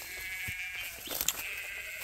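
Sheep and goats with their young bleat on a farm during a water crossing, with a few faint, scattered calls over quiet outdoor background.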